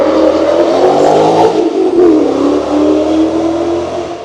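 A Ford Mustang engine revs loudly up close, a deep steady roar that swells and eases slightly across a few seconds with no voices over it.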